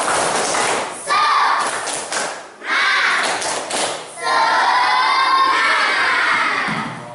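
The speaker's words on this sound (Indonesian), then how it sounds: "Tepuk semangat." Schoolchildren perform a rhythmic spirit clap in class: a few sharp group claps and thumps, then a loud burst of children shouting and cheering in unison, close and lively.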